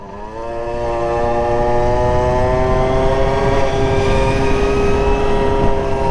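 A Yamaha Super Zuma two-stroke scooter rides steadily, its engine note a continuous buzzing drone with rising harmonics as it climbs in revs, loud and close with no talk.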